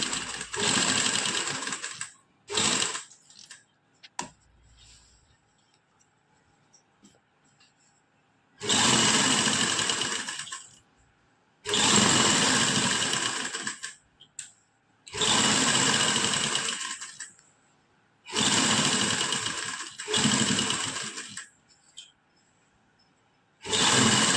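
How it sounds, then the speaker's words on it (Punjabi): A sewing machine stitches a seam along a kameez neckline. It runs in about six loud, close bursts of a few seconds each, with short pauses and handling noises between them. "ਹੁਣ ਆਪਾਂ ਇਹਦੇ ਇੱਕ ਸਲਾਈ ਉੱਪਰ ਦੀ ਲਗਾਵਾਂਗੇ ਇਸ ਤਰ੍ਹਾਂ"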